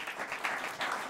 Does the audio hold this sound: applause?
yes